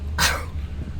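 A single sharp sneeze bursts out aboard a coach tour bus driving through Stavanger, short and fairly close against the low rumble of the moving vehicle.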